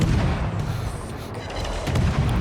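Warship guns fire in a World of Warships naval battle, a dense rumbling barrage of heavy booms that stays loud and steady throughout, with no voices over it.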